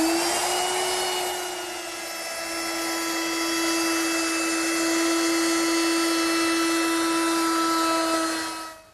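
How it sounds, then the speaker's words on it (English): A router with a 3/8 inch radius roundover bit shapes the top edge of a wooden table top, a loud, steady high-pitched whine running continuously and close up before cutting off at the end. "Now I'll round over the top edge with a 3/8 inch radius rounding over bit."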